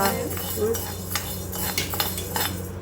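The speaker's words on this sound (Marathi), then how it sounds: "नेक्स्ट गहू भाजतोय आता" Wheat grains dry-roasting in a pan while being stirred for metkut spice powder, close scraping and clinking of a spoon against the metal pan in an irregular rhythm, no voices.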